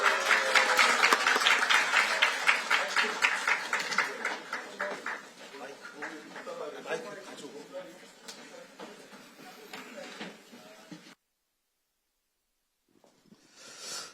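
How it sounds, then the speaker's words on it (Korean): Applause from the audience at a Korean political gathering, as the standing representative, lawmaker Park Sung-joon, is brought up to speak. It is dense and loud at first, thins out over several seconds and stops abruptly, with a few faint claps after a pause. "박수 부탁드립니다."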